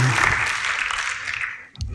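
A church congregation at a worship service claps together in a dense, even burst of applause that fades out near the end.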